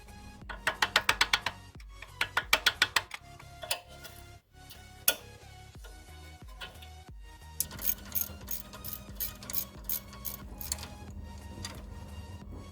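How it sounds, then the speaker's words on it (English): A ratchet works loose a brake caliper on a Toyota Prado, rapid close clicking bursts coming in short runs separated by pauses and occasional metallic clunks. "I'm going to remove the caliper, and we're going to remove this clip here"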